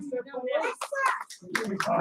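A few sharp hand claps ring out in a classroom, set against children's and adults' voices talking over them.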